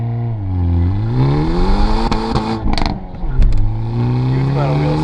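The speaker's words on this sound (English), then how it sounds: "Huge amount of wheel spin there." A 2024 Hyundai Elantra N held on launch control near 3,500 RPM revs hard, then pulls away with the engine pitch climbing and dipping through heavy wheel spin, with crackling bursts mixed in, loud and close.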